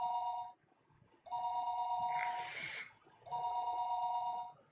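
A telephone rings in a remote place after a short number is dialed: steady electronic ring bursts separated by pauses, clear and close, with no voices.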